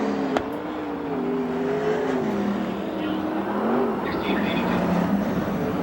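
USAC/CRA sprint cars racing on the Perris, California dirt track: a loud, continuous engine roar whose pitch rises and falls as the cars run, filling the whole stretch.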